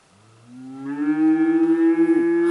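A single long, low moo swells up and holds steady, nearby and clear, with no talking around it.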